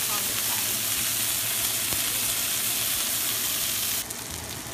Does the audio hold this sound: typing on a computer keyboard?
no